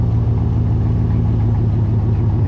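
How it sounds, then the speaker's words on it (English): A straight-piped 2019 Chevrolet Silverado idling after a cold start, with a loud, deep, steady exhaust rumble and a fast, even low pulse that is close and continuous, with no voices. "It'll idle down and quiet just a little bit more, but it'll stay kind of that deep sound that you're hearing right now."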